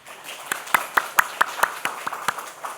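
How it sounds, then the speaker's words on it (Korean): Church congregation clapping during a Korean Sunday sermon, a series of rhythmic claps in a roughly even beat over a low murmur of the room, moderately loud and without speech on top. "잘 살아라 박수 한번 쳐주세요."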